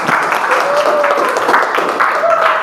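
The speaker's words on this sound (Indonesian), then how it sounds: "oke, tepuk tangan untuk semuanya" Applause for quiz winners at the close of a classroom lesson, a steady wash of clapping from a group that fills the whole moment, with voices mixed in beneath it.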